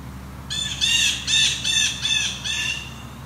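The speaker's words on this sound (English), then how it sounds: "That's their typical jay call." Blue jays give their typical harsh jay calls outdoors: a series of five or six loud, nasal squawks in quick rhythmic succession, clear over a quiet background of distant ambient noise.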